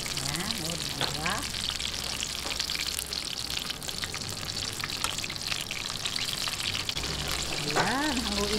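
Chilli cheese lumpia, a Pinoy street food, sizzle steadily in frying oil as they turn golden brown. The bubbling crackle is close and continuous, and a voice cuts in briefly near the start and end.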